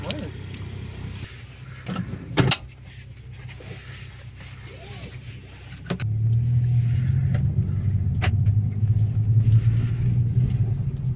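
A Hyundai i20 N Performance hatchback sits idling with a low rumble and a door thud. About halfway through, the engine swells into a louder, steady driving drone heard from inside the car, and voices can be heard briefly.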